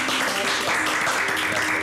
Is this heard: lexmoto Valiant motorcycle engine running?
no